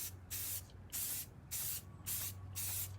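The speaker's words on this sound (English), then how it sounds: "We're going to start out here with our base coat of our khaki." Khaki base coat sprayed from a can onto an AR-15 rifle in five or six steady bursts of hissing spray, each about half a second long, separated by short pauses and backed by a low constant hum.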